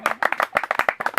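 A church congregation claps together in quick, uneven bursts, loud and close, with faint cheering mixed into the clapping and no clear speech.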